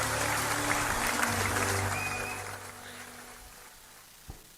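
Applause from a business conference audience after a closing-remarks speaker is introduced, a steady wash of clapping that fades out over several seconds with a faint thump near the end.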